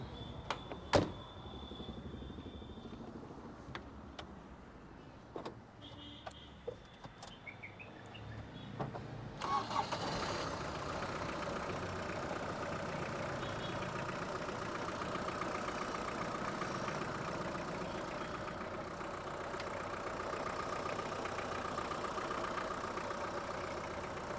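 A restored 2006 Hindustan Ambassador Isuzu 2.0 litre diesel, with a few clicks and door or window sounds before the engine fires at about ten seconds, then settles into a steady low diesel idle, heard alone.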